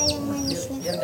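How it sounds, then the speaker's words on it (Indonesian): A chicken clucks in a rapid series of short, close calls, with faint voices in the background. "ini ayam ya?"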